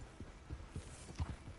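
Horse hooves from Red Dead Redemption 2 clip-clop in a soft, uneven patter of roughly half a dozen muffled thuds at a slow walking pace, faint and close, with no voices.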